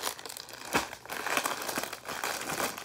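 Crinkly, crunching snips of scissors cutting plastic netting on a package, several close bursts with brief pauses between them.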